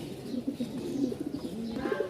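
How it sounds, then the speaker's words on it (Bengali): Many pigeons, about 250 fancy birds including Lokkha, Giribaz, racers and satins at a sale in Mirpur-1, Dhaka, coo steadily in a low, overlapping chorus close by. "আজকে আমাদের হিউজ পরিমাণ কবুতর আছে"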